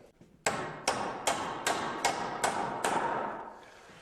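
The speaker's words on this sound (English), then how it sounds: "I'm going to temporarily tack this in place" A hammer drives nails to temporarily tack a wooden stair carriage board in place, seven sharp, evenly spaced strikes ringing close and loud with no talk.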